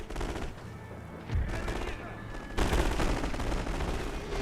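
Dense gunfire from submachine guns and rifles rattles through a First World War battle in The Great War 6.0, continuous overlapping shots with a louder burst partway through and a voice speaking over it.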